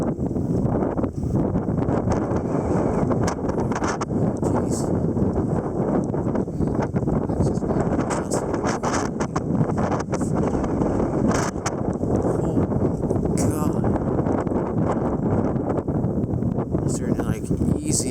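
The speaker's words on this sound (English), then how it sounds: "bunch of dust blowing around because of this wind" A strong windstorm drives blowing dust across open ground, roaring steadily and loudly into the microphone with gusty buffeting throughout, while a person talks over the noise.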